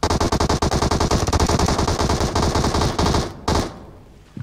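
Rapid automatic gunfire from PUBG, a battle royale video game, rattles loud and close in a fast string of shots, then breaks off and fades into quiet with a faint click at the end.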